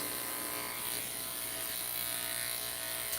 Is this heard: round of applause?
no